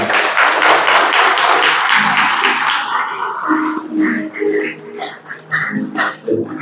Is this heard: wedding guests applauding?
yes